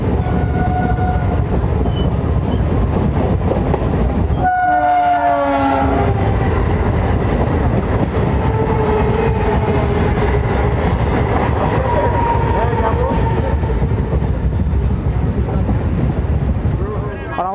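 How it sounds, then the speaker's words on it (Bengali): A Sealdah–Kalyani Simanta local train pulls into Sodepur station: loud, continuous rumble and rattling wagons, with a horn sounding near the start and squealing brakes, close by throughout. "আমাদের ট্রেন এখন ঢুকলো সোদপুরে।"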